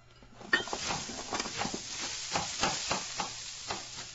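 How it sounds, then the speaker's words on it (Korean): Sichuan-style fried rice stir-fries in a pan, with close sizzling and quick repeated scraping and tossing strokes in an uneven rhythm for a few seconds. "장선생께 대접하려고 아주 특별한 사천식 볶음밥을 만들고 있어요"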